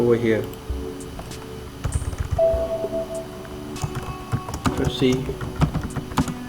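Keys clatter on a computer keyboard as text is typed in Microsoft Word, a quick run of light, close taps heard under a voice that keeps talking.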